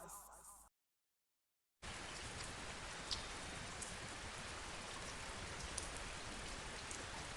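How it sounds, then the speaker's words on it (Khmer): Steady rain falls in a forest, a dense, even patter that drops out for about a second and then resumes at the same level. "មេឃភ្លៀងទៀតនេះនៅក្នុងព្រៃ"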